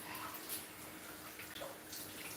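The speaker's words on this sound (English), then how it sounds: "Rinse everything off." Kitchen tap running water over chopped, diced vegetables being rinsed, a faint steady splashing hiss throughout the short stretch.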